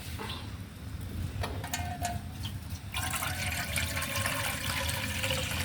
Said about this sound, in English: You can see it's an empty pot, and I'm going to add